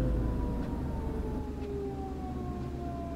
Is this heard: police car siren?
yes